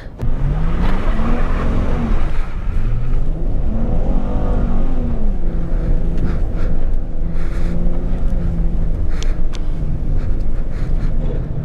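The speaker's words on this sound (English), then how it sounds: "Let's see if I can drive it into this, this area over here without getting stuck." Engine of a free car revving hard while driving through snow, trying to push into a snowy area; loud, continuous, rising and falling revs throughout, no talk.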